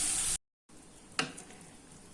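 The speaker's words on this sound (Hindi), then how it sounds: "सब्जी गई है छोक," Vegetables sizzling as they are tempered in a kadhai on a stove, a loud steady hiss of frying broken by a short gap and a sharp crackle, with no talking.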